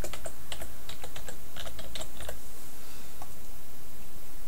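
A computer keyboard being typed on, with a quick run of key taps at the start and a few scattered clicks later, all set against a steady, loud hiss of background noise.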